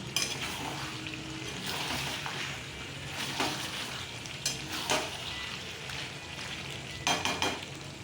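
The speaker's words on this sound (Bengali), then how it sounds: "আলুগুলো দিয়ে আর একটু সামান্য কষিয়ে নেব, যাতে আলুটার মধ্যে মশলাটা যায়।" Potatoes sautéing with spices for chicken curry in a hot pan, a steady loud sizzle broken by a few scraping stirs, with no voices.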